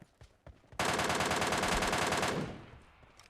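A long burst of rapid automatic gunfire in a solo battle royale video game, loud and continuous for about a second and a half before cutting off, with a few faint clicks before it.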